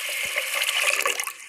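Water running from a tap onto a mix of urad and chana dal in a bowl makes a short, close, bright splashing gush that fades out after about a second, with no talk.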